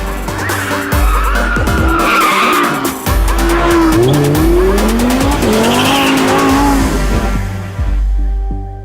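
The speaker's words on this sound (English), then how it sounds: "Back end comes around so fast." A Lamborghini Huracán LP 580-2 has its rear end slide out, tires squealing and skidding loudly in long wavering screeches over a close, revving engine, with brief breaks as grip returns and is lost again.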